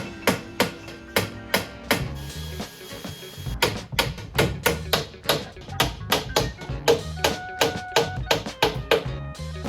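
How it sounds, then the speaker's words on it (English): Sharp, repeated hammer taps driving wooden dowels into drawers, coming in quick irregular bursts with brief pauses, close and crisp. "hammered the dowels home with a bit of wood glue"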